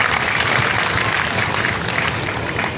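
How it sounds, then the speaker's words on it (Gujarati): Audience at a week-long religious recitation gathering at Vachhraj Dham, Monpur, Amreli district, applauding steadily and fairly loudly as a broad, dense wash of clapping that holds without break. "એમને જોરદાર તાળીના નાદથી વધાવો"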